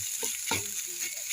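Green peas frying in a pan, a continuous close sizzle with a few soft stirring scrapes.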